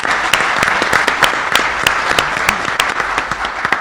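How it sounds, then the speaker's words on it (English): Audience at a recycling summit gives a round of applause, many hands clapping in a lively, sustained burst with a few sharper individual claps standing out near the front. "Let's give them another round of applause"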